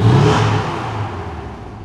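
Porsche 718 Cayman GTS, a 2019 car with a turbocharged 2.5-litre flat-four and its sound diffuser switched off, gives one close rev that peaks at the start and then winds down steadily.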